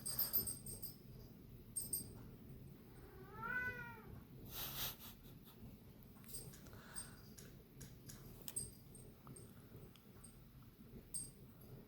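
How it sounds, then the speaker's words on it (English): A single cat meows once with a rising, drawn-out call, fairly faint against a quiet room hum and small background clicks. "my cat talking to probably the neighbor cat outside"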